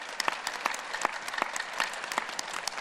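An audience in a yoga and healing session bursts into loud, steady clapping that continues throughout, dense and evenly spread, with a few sharper claps standing out.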